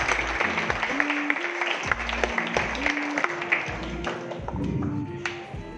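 Schoolchildren clap in a classroom for a classmate who stood to answer, brisk applause over a sustained musical drone, with scattered sharp taps.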